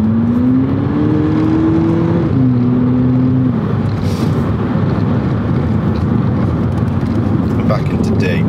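A 2022 Volkswagen Polo GTI with a DSG gearbox accelerates hard, its engine tone climbing and then dropping at a quick gear change before pulling on, loud over road and wind roar while someone talks.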